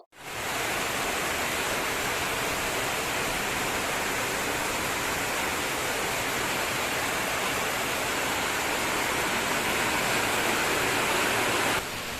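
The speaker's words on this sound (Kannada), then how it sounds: "ತುಂಬಾ ಜೋರಾಗಿ ಮಳೆ ಕೂಡ ಬಂತು" Steady, dense hiss of heavy rain pouring continuously at close range, loud and unbroken throughout, with no voices.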